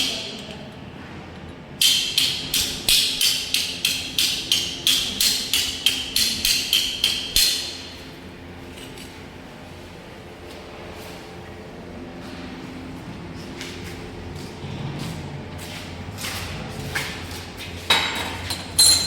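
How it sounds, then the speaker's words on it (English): A chipping hammer knocks slag off a fresh weld in a welding workshop, striking about a dozen sharp, metallic blows in a quick, regular rhythm before the sound drops to quieter background with a few scattered taps later. "Using chipping hammer, we are removing the unwanted waste from"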